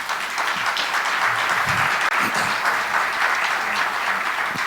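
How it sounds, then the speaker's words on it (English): An audience at a fair housing panel discussion claps steadily for the panelists, a close, even wash of applause from start to finish with a few low murmurs underneath. "Let's give them a round of applause"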